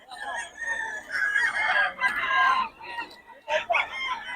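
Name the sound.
chickens and roosters crowing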